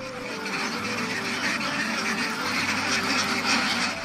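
Ducks on a duck farm quack continuously in a dense, busy chorus, many birds calling over one another at moderate level throughout.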